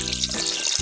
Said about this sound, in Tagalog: tubig, kunting tubig lang